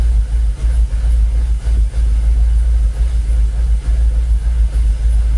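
Jaguar XKR engine idling steadily at about 850 RPM with the throttle untouched, a loud, close, continuous low rumble with a faint rhythmic pulse and no talk.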